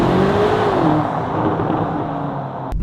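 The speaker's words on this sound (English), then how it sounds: "Now that was just a launch earlier today" A 2023 BMW XM launches under hard acceleration, its engine roaring loud and close as the pitch climbs, then holding a sustained, heavy rumble, with no talking.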